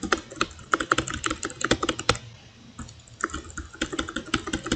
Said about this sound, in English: not only is Elon Musk graping his keyboard for some reason